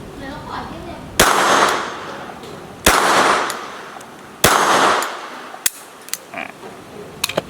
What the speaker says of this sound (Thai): แล้วก็ จุแมกกาซีนไป ยิงแบบนี้ก็ได้ครับ